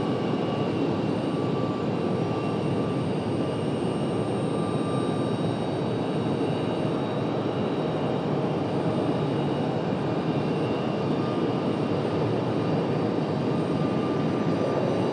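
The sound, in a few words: Southwest Boeing 737 jet departing Raleigh-Durham airport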